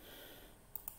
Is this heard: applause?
no